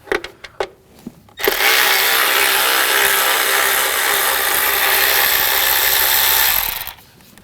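A power tool with a T25 socket backs a screw out of a bracket near the oil pressure sensor and fuel line on a 2007-2013 BMW 328i 3.0L inline-six; brief clicks, then a loud steady whir for about five seconds that cuts off.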